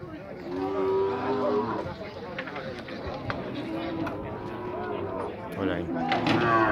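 Cattle low and moo repeatedly at an outdoor livestock fair in Tabira, Pernambuco, with several drawn-out calls rising over a busy crowd and people talking nearby.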